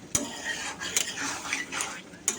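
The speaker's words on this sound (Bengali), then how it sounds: "এই মাছগুলোকে মশলার সাথে ভালো করে এখন কষাতে হবে" Fish pieces being stirred with spices in a pan, quick metal spatula scrapes and clinks against the pan at an uneven rhythm over a faint sizzle.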